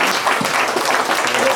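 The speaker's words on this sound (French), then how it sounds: "Moi, je vous demande de l'applaudir." An audience applauds at a live event, a dense, steady roar of many clapping hands, fairly loud and continuous throughout the short burst.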